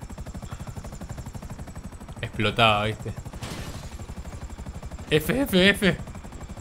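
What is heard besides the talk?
helicopter in the video game GTA V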